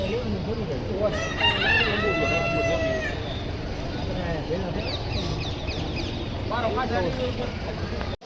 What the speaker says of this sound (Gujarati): અહીં કણે કુકડા છે માતાજીના બહુચર માતાજીના કુકડા